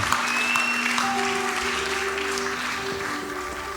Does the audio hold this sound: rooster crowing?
no